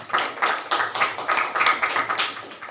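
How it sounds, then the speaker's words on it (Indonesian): Audience applause after a panel discussion, a short burst of many hands clapping in an irregular patter, moderately loud and close, with no speech over it. "Baik, tepuk tangannya sekali lagi yang meriah."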